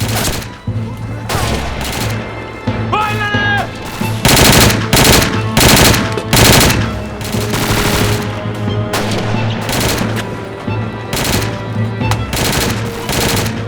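Gunfire and machine-gun bursts in a battle: loud, sharp shots crack close by in irregular clusters and rapid strings, one after another for the whole stretch, with no talking.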